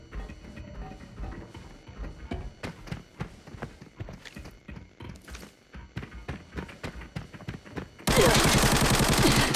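Rapid gunfire in the Arena Breakout shooter game, bursts of sharp shots and automatic fire in quick succession, loud and close, ending in a dense wall of noise.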